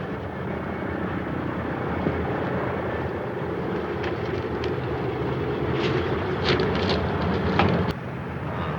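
A propeller airplane coming in to land, a steady droning engine hum that holds throughout at moderate distance, with small clicks and knocks near the end.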